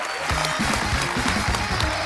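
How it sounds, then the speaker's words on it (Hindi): An audience at The Kapil Sharma Show applauds the Wadali Brothers with steady, dense clapping that fills the room, loud and sustained, with low rhythmic thumps underneath. "एक बार जोरदार तालियां हो जाए वडाली ब्रदर्स के लिए"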